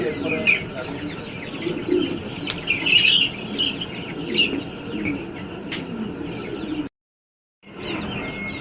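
Soft cooing and chirping from brooding pigeons and their chicks in a coop, with faint rustling and a brief dropout near the end; no clear speech.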